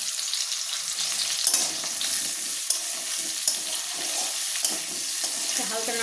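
Jackfruit and prawn curry sizzling and being stirred in a pan, a steady frying hiss with scraping stir strokes close up and no talking.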